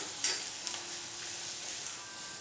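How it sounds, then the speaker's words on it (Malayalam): Sliced onions sauté in a pan over medium heat for a Kerala mezhukkupuratti side dish, giving a soft, even sizzle with a couple of light stirring scrapes, close but quiet, with no talking. "ആ സവാളയും കൂടി ചേർക്കാം. അപ്പോൾ ഇത് രണ്ടും കൂടി ചേർത്ത് കൊടുത്ത ശേഷം നല്ല രീതിയിൽ തന്നെ ഇതെല്ലാം കൂടി ഒന്ന് വഴറ്റിയെടുക്കുകയാണ്"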